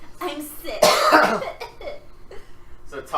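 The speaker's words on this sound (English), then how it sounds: "Coughs up blood." A tabletop RPG player voices a character's cough in a Masks campaign, a raspy acted cough burst in the middle of ongoing talk, with speech before and after.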